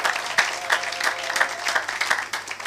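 A church congregation at a Sunday service claps together in a steady, rhythmic beat. The claps are bright and even throughout, with a faint crowd murmur underneath.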